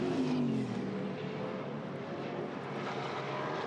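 Muscle cars, among them a Camaro, race down the front straight at Pukekohe, a loud sustained roar of V8 engines passing at a distance and fading slightly as they head toward the turn.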